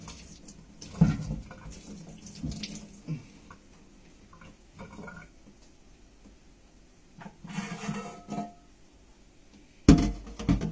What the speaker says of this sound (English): You can just wash it off